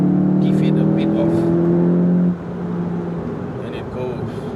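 Volkswagen Golf GTI 7.5 engine pulling under acceleration, a strong droning hum close by that holds steady, then drops abruptly to a quieter, rougher engine note as the pull eases.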